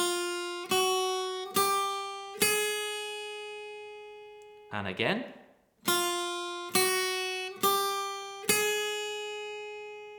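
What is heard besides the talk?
guitar playing chromatic scale pattern on every string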